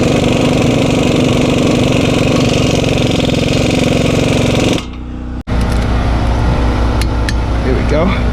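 A power tool, likely an impact wrench, runs loudly and steadily for several seconds while tightening a 22 mm suspension bolt on a 2004 Acura MDX, then stops and whirs again with clatter in a garage.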